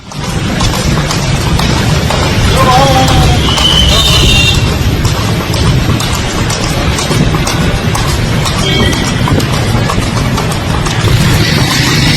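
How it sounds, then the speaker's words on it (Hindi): Horse hooves clip-clop along a road during a late-night police patrol on horseback, buried under a loud, continuous wash of crowd and street noise. "खुद घोड़े पर सवार होकर देर रात निकले हैं पेट्रोलिंग करने के लिए"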